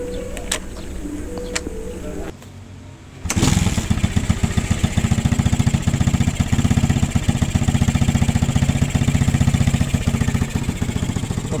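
A 2010 Suzuki Satria FU 150 motorcycle cranks and fires up, then settles into a loud, close, rapid putter at idle, with a few faint clicks and handling noises before the start.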